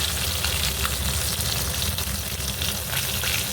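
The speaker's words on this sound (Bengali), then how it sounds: "ভাজা হয়ে গেছে বেশ ভালো করে ভেজে নিয়েছি মুড়োগুলো লাল লাল করে" Fish heads fry in hot oil for a Bengali muri ghonto, giving a steady, close, continuous sizzle and crackle with no pauses and no talking.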